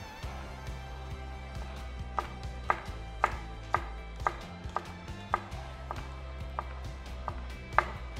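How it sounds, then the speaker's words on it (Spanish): Kitchen knife slicing garlic cloves into thin pieces on a board, with a steady series of sharp, close taps at an irregular pace over a low background hum. "Vamos a picar también 4 dientes de ajo"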